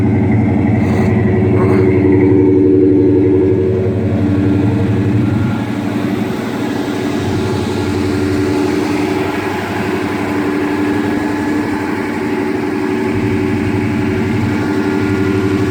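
Crate 350 V8 running in a truck, a steady low engine rumble idling continuously at close range with slight fluctuations and no speech.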